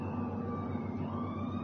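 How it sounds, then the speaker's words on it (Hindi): Ambulance siren passing through Mumbai city streets at night: a steady, wavering wail heard alone over a dense hum of traffic noise, holding at a constant loudness throughout. "अचानक एम्बुलेंस की आवाज रात के सन्नाटे को चीरती हुई मुंबई के सड़कों से गुजर गई"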